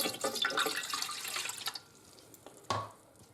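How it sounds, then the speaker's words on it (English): Warm water pours into the pan of a Cookworks EHS15AP-P bread machine, a splashy, trickling flow for under two seconds followed by a few faint drips and a soft knock. "We now add our warm water"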